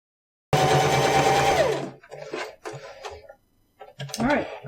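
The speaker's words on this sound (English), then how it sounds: "And I'm doing about a 5/8 inch seam here. With the the dark green thread." A sewing machine stitches a 5/8 inch seam in dark green thread, running loud and steady for over a second before stopping, followed by softer handling noises and brief talk nearby.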